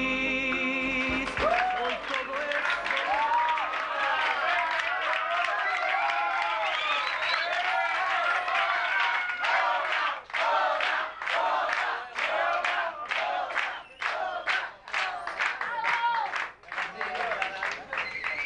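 A karaoke audience applauds and cheers, a dense, continuous wash of crowd clapping and shouting that breaks into sharper individual claps toward the end.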